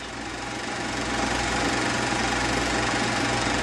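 An Allis Chalmers WD-45 tractor engine runs steadily during a clutch demonstration, a continuous mid-pitched knocking drone that swells slightly and holds, with a short clunk at the very end.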